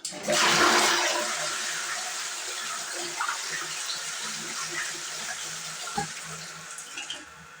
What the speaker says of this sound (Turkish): Şimdi sifonu çekiyoruz.